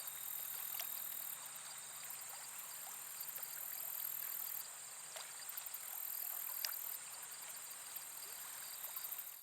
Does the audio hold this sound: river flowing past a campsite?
yes